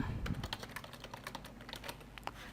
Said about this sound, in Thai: เราสามารถที่จะพิมพ์ได้ตามปกตินะฮะ พิมพ์ภาษาไทยได้นะครับ